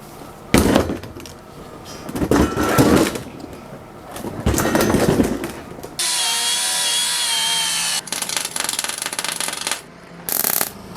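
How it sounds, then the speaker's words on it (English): Metal parts are ground off a box truck during a conversion with a power grinder, heard as loud, uneven bursts of harsh grinding broken by short pauses, then a sustained whining stretch before a few final bursts. "let me pull this out, grind those off, and weld this back so we can get to some lights"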